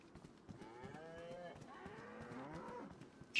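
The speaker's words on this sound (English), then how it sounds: "Sounds like there's plenty of cows to kill." Cattle in the video game DayZ moo repeatedly in long, drawn-out calls, several overlapping and moderately distant, with a sharp noise at the very end.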